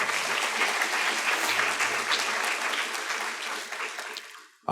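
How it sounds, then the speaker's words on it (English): Audience applause for keynote speaker Andrew Gillum at a Black History Month lecture, steady bright clapping from a crowd that holds evenly for several seconds before tapering off abruptly. "So let's give a hand clap for him real quick."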